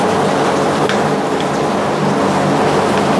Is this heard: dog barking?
no